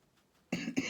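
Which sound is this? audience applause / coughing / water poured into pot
coughing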